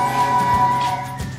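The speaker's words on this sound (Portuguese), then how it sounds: "Aqui tem a buzina." Remote-control toy train sounds its horn: a steady, sustained electronic tone held for over a second, fairly close and clear against a faint background.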